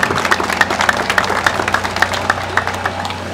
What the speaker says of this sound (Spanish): ¡Aplausos pues para todos los que colaboran y apoyan en esta gran obra!